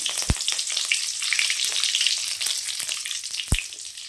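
Mustard seeds, urad dal and curry leaves frying in oil in a kadai for a mushroom gravy, a steady close sizzle with a couple of sharp pops and light stirring.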